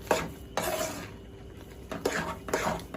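Beet laddu mixture with sugar stirred in a pan, a spoon scraping and clinking against the metal in a few separate bursts, close by with no talk.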